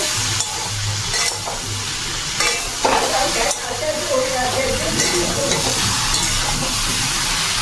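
Potatoes sautéing with turmeric and salt in a pan, a loud continuous sizzle with stirring scrapes and clatters of the spoon, close and steady throughout.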